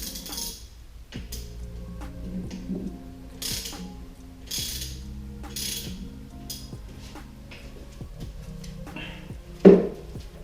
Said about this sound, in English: I'm gonna use a 13mm deep socket.